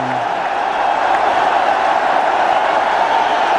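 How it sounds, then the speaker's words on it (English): A cricket crowd at the Gwalior stadium during a one-day international, a steady roar of cheering and noise from a large crowd that runs the whole time without breaks. "And this crowd is just going ballistic"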